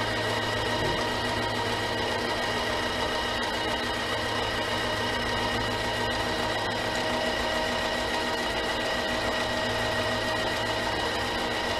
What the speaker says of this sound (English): Brass is obviously going to machine